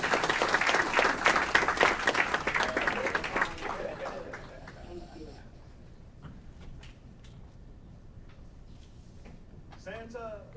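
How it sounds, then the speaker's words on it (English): Audience applause at an Aurora City Council meeting with a holiday celebration: dense, loud clapping for about four seconds, then thinning to scattered claps and a quieter room, with faint voices near the end. "Let's give him a round of applause."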